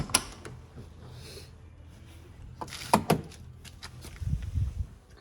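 An Aston Martin Vantage door being opened while the car sits in storage, with a few soft mechanical clicks and a creak, then a firm latch release and a low thump close by.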